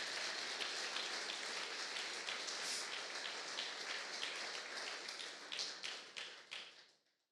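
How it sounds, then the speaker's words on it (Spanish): A church congregation claps loudly during a sermon, a dense sustained rain-like patter of many hands that holds steady before thinning into scattered claps and fading out near the end. "Dale un fuerte aplauso al Señor."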